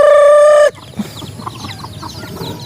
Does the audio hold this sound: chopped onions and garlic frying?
no